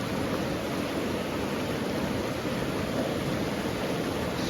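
Steady broadband rush of creek current at the Bear Creek crossing on the Pacific Crest Trail, loud and continuous throughout with no pauses or talk.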